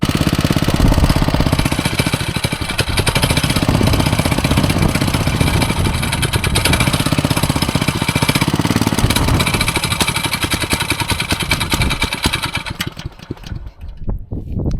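Small engine with a carburetor problem, revving loud and close with a rough, steady chugging roar for most of the stretch before sputtering and stumbling near the end, no voices over it.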